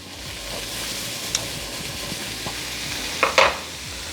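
Scallions, serrano pepper, ginger and four garlic cloves sizzling in a hot pan, a steady close hiss with a few sharp utensil clinks and scrapes near the end.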